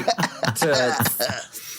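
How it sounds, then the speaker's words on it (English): A man's coughs, several short harsh bursts in quick succession, close and loud, tapering off into a breathy finish. "That's me coughing like a man."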